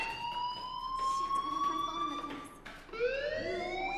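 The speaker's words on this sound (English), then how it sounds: "Hey, do you hear that fire alarm?" Fire alarm in the Life is Strange video game, a steady wailing electronic tone that rises in pitch and restarts, heard at moderate level inside a building with ambient noise behind it.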